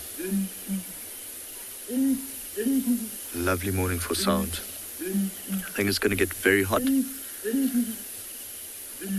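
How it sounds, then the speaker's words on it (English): Two birds trade deep, hooting calls in a back-and-forth duet, repeated several times, with a person talking over parts of it. "It's only two of the birds calling."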